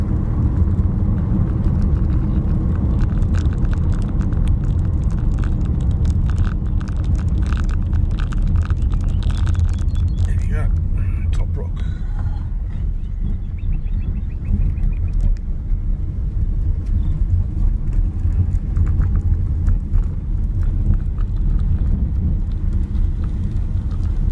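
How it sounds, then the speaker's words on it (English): Heavy rumble of delivery trucks driving down a road, a loud continuous low roar of traffic with engine drone swelling and easing, no voices. "Astounding that all the delivery trucks actually come down this road"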